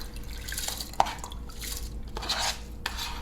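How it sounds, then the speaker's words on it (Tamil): Washed rice and lentils tipped into a pot of water for pongal, a wet splash and drip with a clink of metal on the pot, brief and close with no talking. "ஸோ இதை நம்ம வாஷ் பண்ணி வச்சுருக்க அரிசி பருப்பை இதில் ஆட் பண்ணிடலாம்."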